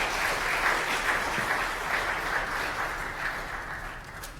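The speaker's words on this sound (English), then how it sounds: "Round of applause to thank them for their comments." Audience applause at a talk about Harding Hospital and Worthington Foods, a steady wash of many hands clapping at a moderate level for the whole span.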